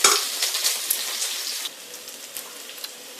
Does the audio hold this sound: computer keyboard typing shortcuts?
no